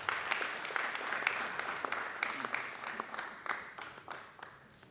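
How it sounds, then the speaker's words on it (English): Steady applause from a crowd at a panel discussion fills the whole stretch, a dense patter of many hands clapping with a few sharper claps standing out. "can we do your round of applause?"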